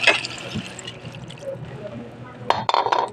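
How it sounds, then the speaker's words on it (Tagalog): Water poured into a cooking pot for fish sinigang with calamansi, a short splashing fill near the end after quiet kitchen sounds, with a person talking briefly. "Lanta na, lagyan na natin ng tubig."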